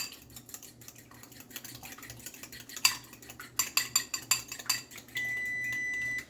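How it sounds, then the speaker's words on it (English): Eggs seasoned with salt and black pepper are whisked in a bowl, a quick run of light metallic clicks and taps of a fork against the dish, quiet and close, ending in a brief steady rattle. "Just going to whisk those all together."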